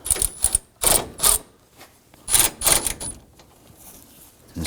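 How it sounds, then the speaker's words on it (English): Ratchet wrench tightening the lower bolts of an AC condenser on a 2005-2009 Subaru Legacy, heard as bursts of quick metallic clicking separated by pauses, close by, with no talk. "Going to snug down the lower bolts."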